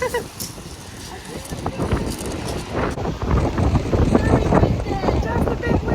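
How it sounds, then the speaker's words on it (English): Gusty wind buffeting the microphone at a beach at Ladram Bay, Devon, rising and falling in loud blasts, with people talking underneath. "Very, very windy, isn't it?"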